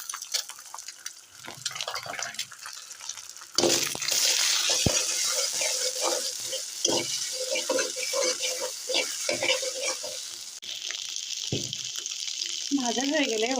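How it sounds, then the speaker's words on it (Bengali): An egg frying with salt and turmeric in a pan, giving a steady bright sizzle throughout with occasional stirring scrapes and clinks, louder after a sudden jump partway in. "এখানে সামান্য লবণ আর হলুদ দিয়ে ডিমটাকে ভেজে নেব।"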